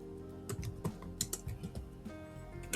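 Someone types a prompt on a computer keyboard, producing a quick, irregular run of light key clicks, close and fairly quiet, with no talking.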